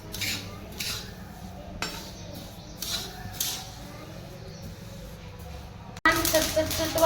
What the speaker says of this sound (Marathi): हे जवस आहे लोखंडाच्या तव्यामध्ये छान भाजून घेऊया